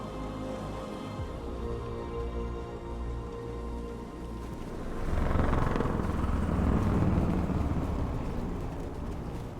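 Helicopters in the video game Detroit Become Human, a steady low rotor thrum and broadband wash that swells louder around the midpoint and holds, with game music tones underneath and no talk.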